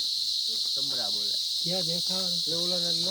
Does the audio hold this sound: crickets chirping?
yes